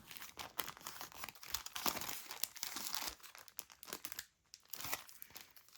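Tape is pulled and handled over scrapbook paper up close, with busy crinkling and crackling bursts, a brief pause, then more rustling.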